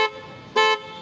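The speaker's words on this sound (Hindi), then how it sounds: "सबसे पहले मैंने हॉर्न कराए" An aftermarket horn on a modified TVS Ntorq 125 scooter blares two loud, close, shrill toots, a short one followed by a slightly longer one.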